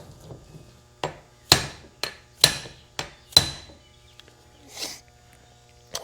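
A hammer taps a gear onto the top shaft of a John Deere 3010 tractor with about seven crisp metallic strikes in an uneven rhythm, close and clear, with short pauses between blows.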